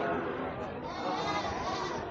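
A black-and-white Jawa Randu goat bleats at a busy livestock market in Kebumen, its calls rising over dense crowd chatter and constant market noise.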